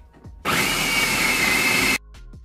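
A kitchen blender purees a lasagna seasoning mix with paprika and black pepper, a loud steady whir that starts abruptly, holds for about a second and a half, then cuts off.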